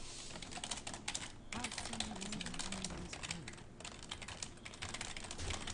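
Typing on a poorly performing secondary computer keyboard during a game stream: a steady, dense clatter of keystrokes throughout, close to the microphone, with faint background sound underneath.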